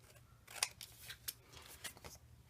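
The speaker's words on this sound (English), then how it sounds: "I'm just going to take my scissors, wherever they have disappeared to, there, and I'm going to trim off that funny angle" Scissors trim paper scrapbook pages in a few quiet, close snips, with sharp crisp cuts spaced irregularly over a couple of seconds and no talking.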